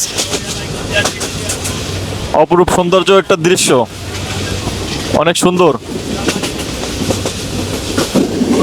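The Joyantika Express train runs past hills on the Dhaka to Sylhet route, a steady close rumble with rhythmic clatter of the wheels, while someone speaks over it in short bursts.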